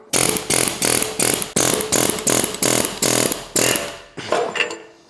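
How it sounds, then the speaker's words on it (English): A pneumatic air hammer fires in loud, harsh bursts, about nine in a row with short pauses between each, close and dominant, removing parts from a BMW 850i V12. "This one came out much easier using just the air hammer."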